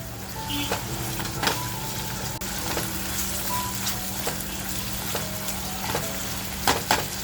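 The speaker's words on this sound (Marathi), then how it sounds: "ती चरबी टाकते याच्याबरोबर मस्त अशी ती कांद्याबरोबर फ्राय होईल" Mutton fat fries with onions in hot oil for a mutton liver kalegi masala, giving a steady close sizzle broken by occasional sharp stirring clicks.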